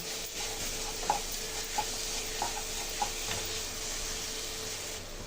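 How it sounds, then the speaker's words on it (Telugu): Dry fruits are stirred into carrot halwa in a pan, giving four or five soft scraping and tapping strokes over a faint, continuous hiss of cooking. "కలుపుకుందామండి డ్రై ఫ్రూట్స్ అంతా కలిసేలాగా."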